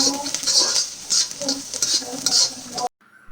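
Finely chopped carrots, cabbage and capsicum stirred and tossed in a pan over medium-high flame, with repeated scraping strokes and a soft sizzle in a steady rhythm, close and fairly loud, ending abruptly.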